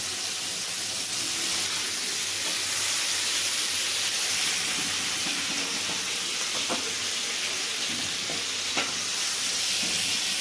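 Chillies fry hard in a pan after fish, a loud continuous sizzle and hiss close up with occasional stirring scrapes, no voices.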